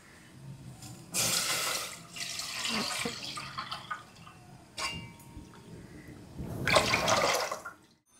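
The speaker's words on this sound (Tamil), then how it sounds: "பாலை ஊற்றிடும்." Milk is poured into a pan while making an almond milk drink, giving two short, fairly loud bursts of splashing liquid separated by a quieter stretch.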